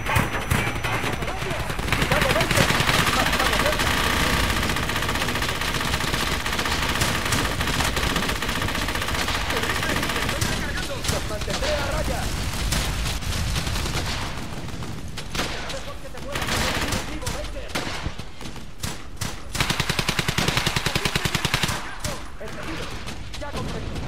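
Machine gun fire in the Brothers in Arms war game, rapid bursts and a chaotic fusillade of gunshots rattling over the whole stretch, with voices shouting amid the shooting.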